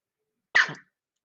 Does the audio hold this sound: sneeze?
yes